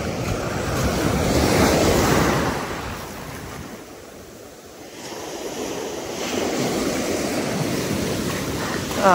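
Big sea waves crash and roll in repeatedly at open water while fishing, loud rushing surf with wind buffeting the microphone, swelling, easing off in the middle, then building again.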